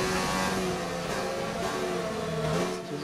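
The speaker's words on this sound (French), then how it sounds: "Et le son des moteurs augmenté" Loud, continuous race-car engine roar from F1 2019 video game cars, sustained high-revving drone with shifting pitch filling the whole stretch, no talk.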